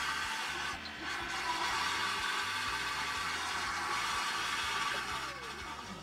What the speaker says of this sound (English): Yep, that's a macerator.